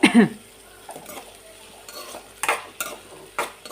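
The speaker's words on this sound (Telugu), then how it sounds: "మంచిగా ఫ్రై చేసుకోవాలి ఈ ఈ రెండు మంచిగా మగ్గిపోవాలి పచ్చిమిర్చి ఉన్న ఉల్లిపాయలు" Onions and green chilies fry in a pan for a tomato-onion chutney, giving a soft sizzle under scraping, clinking stirs of a spoon against the pan, loud and close.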